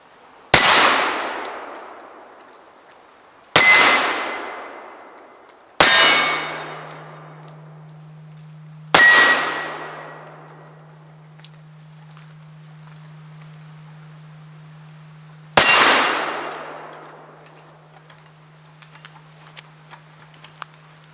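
Steel targets ring from hits by .44 caliber paper cartridges firing big Johnson & Dow conical bullets. Five sharp, loud metallic clangs land at irregular intervals, each decaying slowly, over a steady low hum that starts partway through.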